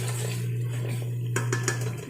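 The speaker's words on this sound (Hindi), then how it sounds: "अब इसको मैं अच्छे से इसकी भुनाई कर लूँगी ताकि हमारे टमाटर जो हैं वो अच्छे से गल जाएं।" Chana dal masala with tomatoes, green chilli and red chilli being roasted in a pot, with a steady low hum under soft scraping and a few sharp utensil clinks against the pot near the end.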